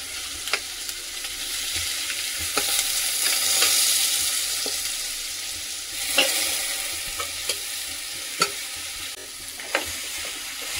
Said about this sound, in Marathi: आणि हे घट्ट होईपर्यंत आपल्याला परतवून घ्यायचं आहे।